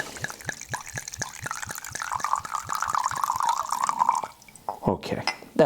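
Red wine pours from a bottle into a glass in a quick, regular series of glugs, and the filling tone rises as the glass fills; a voice speaks briefly at the end.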